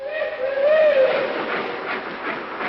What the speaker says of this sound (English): Seems funny to be standing here in the window of this hotel watching our train pull out